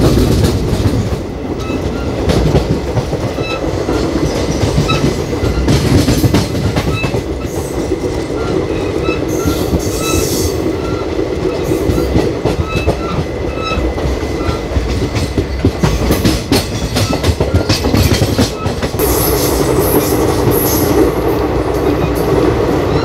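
Millennium Express passenger train rolling along the rails with a steady loud rumble and rhythmic clickety-clack of wheels, occasional faint squeals, continuous throughout with no talk.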